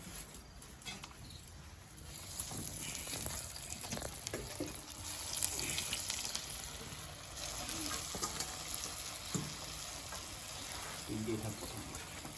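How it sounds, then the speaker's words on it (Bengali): Vegetable chops frying in hot oil, a continuous loud sizzle and crackle that swells as more pieces go in, with clatter and voices talking in the background. "এবার আমরা ভেজিটেবলগুলো একটা একটা করে ছাড়ছি"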